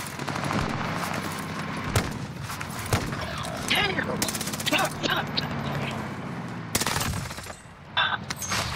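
Rapid gunfire from an online shooter match, dense automatic bursts and single shots layered loudly throughout, with players talking over the action.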